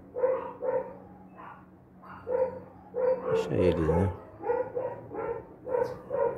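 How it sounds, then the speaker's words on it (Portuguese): Several dogs barking in repeated short bursts at a home where wild birds visit, moderately close, with people talking casually over and between the barks. "Os cachorros é tradicional aqui já, hein?"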